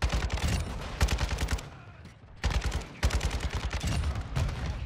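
Rapid automatic gunfire in the shooter game Modern Warfare 2, with loud, close bursts of fire, a brief lull near the middle, then sustained firing again.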